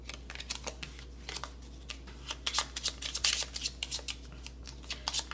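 A deck of tarot cards is shuffled by hand, close up: quick, rapid riffling flutters and papery snaps that come in uneven bursts over a low steady hum.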